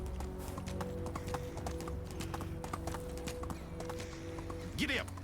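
Horse hooves clop in a steady riding rhythm in the video game Medieval Dynasty, with a constant ambient hum beneath and a brief rising whinny near the end.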